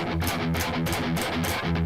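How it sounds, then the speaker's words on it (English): A distorted electric guitar plays tense heavy metal gallops, loud and dense, with rapid repeated palm-muted chugs in a driving, slightly uneven rhythm. "If your heavy metal gallops sound like this,"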